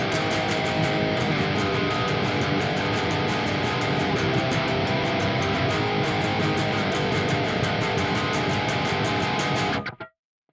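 A heavily distorted electric guitar, tuned to drop C, chugs a dense power-chord riff loud and unbroken for about ten seconds before cutting off abruptly.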